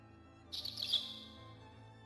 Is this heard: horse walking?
no